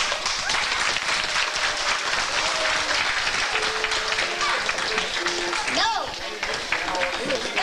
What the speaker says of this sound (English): If we all clap together, we'll probably get 100.